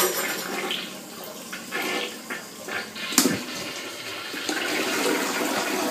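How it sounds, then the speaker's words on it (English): A household toilet flushes, a broad rushing swirl of water lasting several seconds with a sharp clunk partway through, close and fairly loud with no talking. "that's how you flush things down the toilet"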